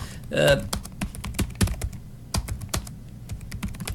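Close, fairly quiet typing on a computer keyboard, with irregular clicks and short bursts of keystrokes spaced by brief pauses.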